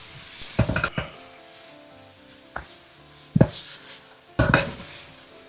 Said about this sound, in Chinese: 加入豆芽， 把豆芽炒大約2分鐘，直到變軟變香